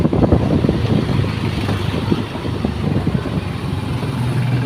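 Motorcycle engine running while riding with water containers aboard, a loud, rough, throbbing putter close up, mixed with wind buffeting on the microphone, with no talk.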